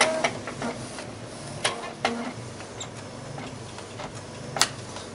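An inkjet-style photo printer working through a print, giving off a series of soft mechanical clicks and feed noises over a low steady hum, with a few sharper ticks standing out.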